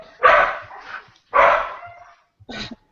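A dog barks three times, loud and close, each bark a full harsh burst with a short tail. The last bark is shorter. There are gaps of near silence between them and no talk.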